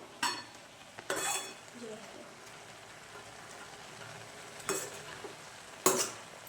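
A spoon stirs carrot halwa in a pan, with scraping strokes at intervals over a low, steady cooking hiss; close and fairly quiet, with no talking.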